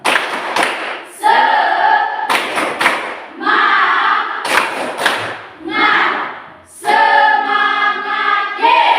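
Students in a junior high maths classroom perform a rhythmic spirit clap, loud bursts of synchronized claps and thumps alternating with group chanted shouts in a repeating pattern.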